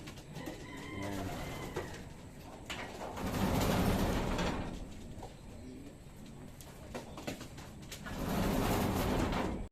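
Racing pigeons cooing inside a loft, soft repeated coos near and moderate in level, with faint rustling and distant background birds, no talking.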